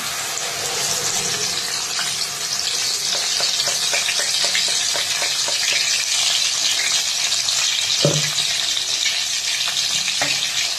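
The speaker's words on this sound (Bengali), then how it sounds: "তেল গরম হয়ে গেছে, এবার এই পেস্টটাকে এর মধ্যে ঢেলে দিলাম।" Spice paste hitting hot oil and frying with a loud, steady sizzle, stirred with repeated scraping taps and one sharper knock near the end, close up and without talk.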